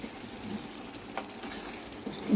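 Curry cooking in a clay pot, stirred now and then, gives a soft steady sizzle with faint scraping, close by, quiet and without voices.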